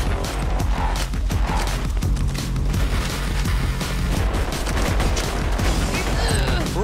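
Dense, continuous gunfire from the video game Borderlands 2, a sustained fusillade of rapid shots and booms layered over each other, loud and close throughout with mechanical clanks mixed in.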